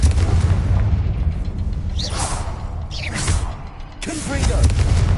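Confringo fire spell explosions in the video game Hogwarts Legacy, several loud fiery bursts with whooshing impacts in quick succession over a rumbling game soundscape.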